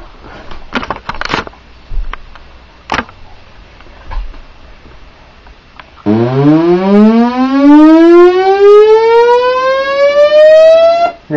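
An electronic siren tone synthesized in Audacity, the high tone of an SD10 siren, sweeps smoothly upward and holds a loud, steady wail, preceded by a few scattered clicks and taps.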